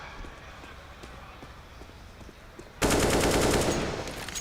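An AK rifle fires a sudden loud burst of rapid automatic gunfire in a Counter-Strike match at IEM Katowice 2023, following softer scattered in-game sounds, while caster commentary runs beneath.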